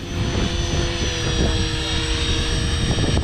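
A 500xt helicopter in flight gives a close, loud, steady roar of rotor and engine with a rhythmic chopping beat throughout.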